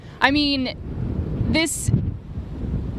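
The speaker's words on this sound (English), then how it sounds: "it is so windy out that it could easily happen again" Strong wind from Hurricane Irma roars past the microphone as a low, steady buffeting rumble outdoors, while someone speaks briefly over it.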